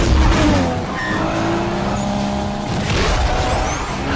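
Street-racing cars from the film 2 Fast 2 Furious roar past at speed with loud engine whine and a hint of tire squeal, against a dense, continuous wash of road noise.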